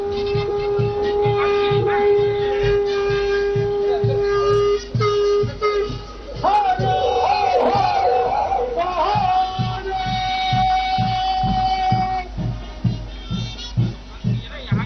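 Trains depart after a flag-off at a railway inauguration event in Gujarat: a long steady train whistle, then a rush of cheering and whistling from a crowd, over the rhythmic clatter of moving carriages, with a voice speaking over a PA throughout.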